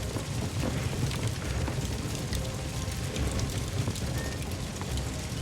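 A building burns in a video game, giving a dense, steady crackling roar like heavy rain that fills the whole stretch at an even level, with no voices.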